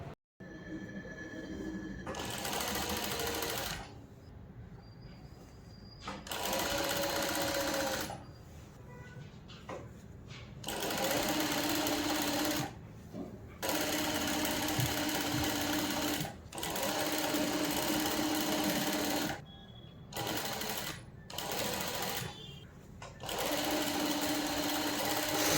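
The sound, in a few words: sewing machine stitching pleats of a nauwari saree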